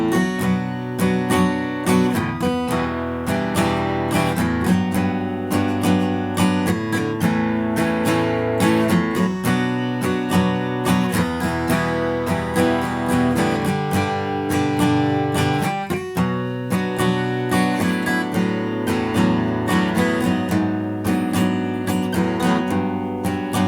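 Acoustic guitar plays the chorus of a song, a steady strummed and picked pop accompaniment of full chords ringing continuously and at an even, moderate volume with no voices.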